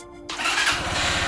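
A Lifan KPR 200 motorcycle engine cranks and catches after a brief whirring moment, then settles into a loud, close, rapid puttering idle.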